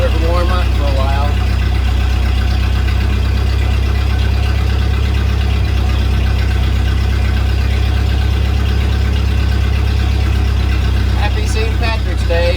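A Ford Model A engine idles while warming up on a cold morning, a steady low, even rumble that runs unbroken throughout with a few faint, brief sounds near the end.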